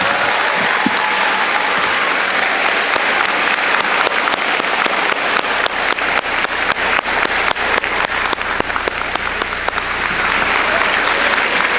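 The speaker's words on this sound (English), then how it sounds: "can I please have one big round of applause for all of our candidates" Sustained, loud applause from an audience at a mayoral candidate forum in Oakland, a dense continuous wash of clapping with sharper individual claps standing out, steady throughout.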